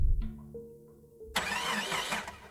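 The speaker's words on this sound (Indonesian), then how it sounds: "Tiba-tiba mobilnya sulit untuk dihidupkan." A car engine cranks as someone tries to start it: quiet mechanical whirring and clicks at first, then a sudden loud burst of rough engine noise that sputters on briefly before fading.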